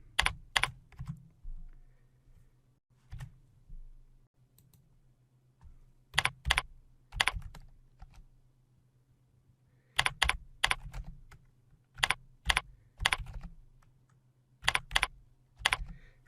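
Someone types on a computer keyboard in irregular bursts of sharp, close key clicks, with single taps and short quick runs separated by quiet gaps over a low steady hum.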